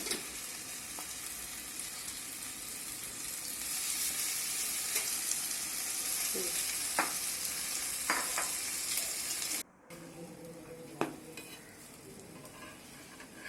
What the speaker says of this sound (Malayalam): ഓരോ ബ്രെഡ് വീതം പാനിലേക്ക് മുക്കി വയ്ക്കണം.